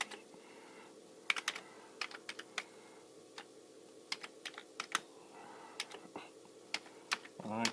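Fingers tap on a Commodore 64 computer keyboard in irregular, quiet keystrokes and short clusters of clicks over a faint steady electrical hum.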